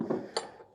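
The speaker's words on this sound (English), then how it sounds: "Oh boy, this is all scrap metal." Scrap metal car parts, such as caliper pieces, hub pieces, a pipe and bolts, knock against each other. A soft rattle is followed by one short, bright metallic clink, close and brief.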